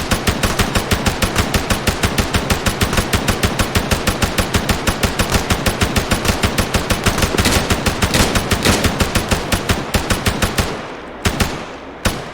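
A minigun fires at an SUV in a game, a long, loud stream of rapid, evenly spaced shots for about ten seconds, then a few scattered bursts before stopping.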